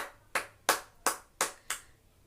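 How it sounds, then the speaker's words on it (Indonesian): Classroom applause for students, heard as five sharp separate claps in a slow, even rhythm, each a crisp burst that fades quickly, fairly close and alone with no talking. "Tepuk tangan untuk Dek Ayu,"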